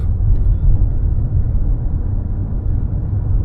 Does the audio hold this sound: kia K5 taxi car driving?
yes